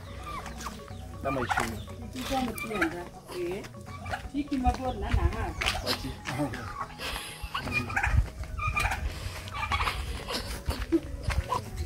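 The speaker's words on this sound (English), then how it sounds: "this is the chicken house" Chickens cluck steadily in a chicken house on a farm, a busy flock heard close up under a voice talking over most of it.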